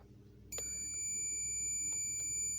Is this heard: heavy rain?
no